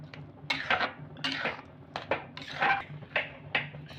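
Semolina and water stirred in a pan over a low gas flame: repeated scraping, clattering strokes of a spoon against the pan in an uneven rhythm, close and fairly quiet, with no talking.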